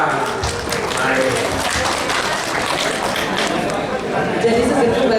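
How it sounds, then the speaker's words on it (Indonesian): A group of workshop participants breaks into clapping for a few seconds, steady and close, mixed with chatter and voices. "Tepuk tangan untuk kita semua"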